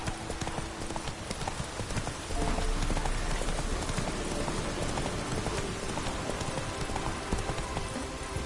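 Hooves of a horse clip-clop rapidly and continuously in The Witcher 3, a steady galloping rhythm heard close over soft ambient rain-like noise.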